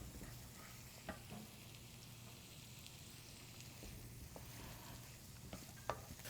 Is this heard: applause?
no